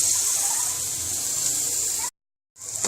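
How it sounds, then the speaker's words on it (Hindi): Milk pours steadily into almond, date and poppy seed halwa in a pan, a continuous liquid rush that cuts off abruptly near the end before resuming briefly. "अब इसके अंदर हम दूध डालेंगे और देखना इसकी फ़ौरन ही शक्ल चेंज हो जाएगी"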